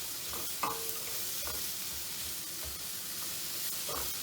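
Sausages browning in an electric wok give a steady close sizzle and hiss, with a few brief scrapes and stirs of a utensil rising over the constant frying noise.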